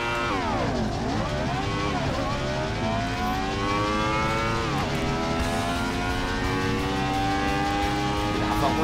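A Honda CBR1000RR-R 1000 cc sport motorcycle engine revs hard and continuously, its pitch sweeping down and climbing again through several gear-like rises, loud and close with no pauses.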